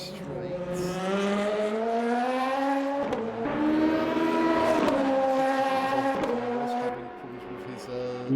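Race cars in a sim racing game at Silverstone accelerate hard onto the Hangar Straight, their engines loud and close and climbing through the gears in rising whines with brief dips at each shift.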